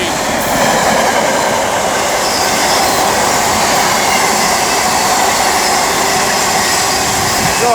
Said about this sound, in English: now passing by will be a DB Cargo UK Class 66 working 4 Mike 71 from Sultan West Docks Berth 109 to Birch Coppice Exchange sidings.